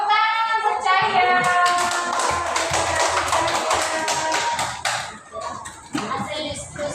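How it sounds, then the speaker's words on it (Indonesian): Children in an elementary school classroom clap for a classmate, a burst of brisk hand claps that fades out with scattered taps, while a voice speaks over the opening and a few young voices come through afterward. "Tepuk tangan untuk Cahya."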